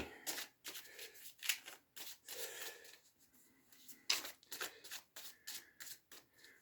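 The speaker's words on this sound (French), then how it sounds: "Je tirerai quelques cartes pour finir." Oracle cards being shuffled and drawn by hand, giving soft papery riffles and flicks in short bursts with brief pauses between, close and fairly quiet.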